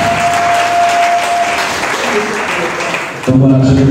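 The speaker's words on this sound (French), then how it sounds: "On peut applaudir pour ça." Audience applause fills a live art broadcast from Kivu, a loud, steady patter of clapping throughout, with a sustained tone early on and brighter tonal sounds joining near the end.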